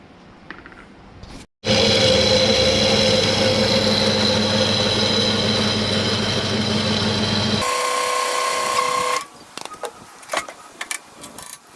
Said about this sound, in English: A little bit hard starting on this tune